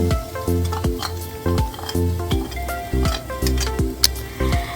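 Garlic and chicken sautéing in a pan for Filipino sopas, with steady sizzling and repeated scraping stirs of a utensil against the pan, close and fairly loud, no talking.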